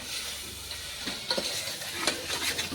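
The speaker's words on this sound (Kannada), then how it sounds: "ಒಂದು ತಟಕ್ಕೆ ಅರ್ಶಿನ ಪೌಡ್ರ್ ಹಾಕ್ಲತ್ತೀನಿ ರೀ ಇಷ್ಟಕ್ಕೂ ಚಂದ ಗರ ಗರ ತಿರುಗಿಸ್ಕೊತೀವಿ ನೋಡ್ರಿ" Suji frying in a pan gets stirred with turmeric powder, a soft sizzle under a few close scraping and clinking strokes of the spoon against the pan.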